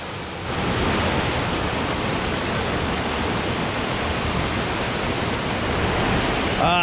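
A waterfall at Fillmore Glen State Park in Moravia, New York gives a loud, steady rush of falling water. It is close by and continuous throughout, with no voices.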